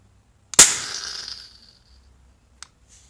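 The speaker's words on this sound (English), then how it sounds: "Both igniters fired, so this means you can fire multiple fireworks from the same cue point." Two firework igniters set off together by an MS12Q remote firing system give one sharp, loud crack with a short hissing burn that fades over about a second, followed by a faint small pop.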